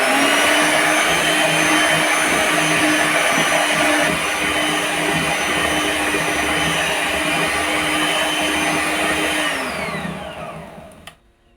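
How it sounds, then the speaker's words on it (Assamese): An electric hand beater whirs steadily as it mixes homemade dry cake batter, a loud continuous motor drone with a constant pitch for about ten seconds before it winds down and stops. "পুনৰ বিটাৰডালেৰে আৰু অকণমান মিক্স কৰি দিম।"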